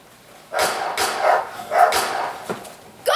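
Gun dogs at a shoot bark several times in a row, sharp, fairly close yaps spaced about half a second apart, with a new bark starting at the end.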